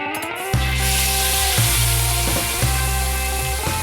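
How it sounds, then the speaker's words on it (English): Malaysian rempah spice paste fries in a hot pan for ayam panggang percik, giving a loud, continuous sizzle with a few soft stirring knocks about a second apart over a steady tonal hum. "we're going to fry the spices."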